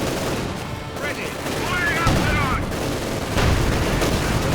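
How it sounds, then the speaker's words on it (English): Maxim machine gun and mortar fire in a Company of Heroes 2 match, a steady dense battle din of rapid gunfire bursts and thudding explosions with no pauses. "Maxim joining in. Mortar rounds flying."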